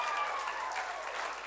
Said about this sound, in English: we'll applaud them